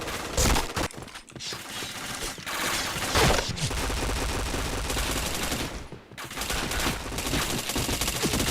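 Rapid bursts of gunfire from the Point Blank shooter game ring out almost without pause, loud and dense, with a brief lull near the middle before the shooting resumes.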